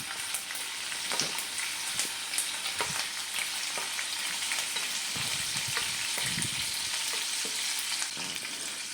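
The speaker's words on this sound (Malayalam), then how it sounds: "കടുക് ഒന്ന് പൊട്ടി വരുമ്പോൾ നമുക്കതിലേക്ക് ഉലുവ ചേർത്ത് കൊടുക്കാം" Mustard seeds, fenugreek and green chillies fry in hot oil for a pickle, a steady sizzle dotted with crisp popping seeds and a few louder spatters, with no voices.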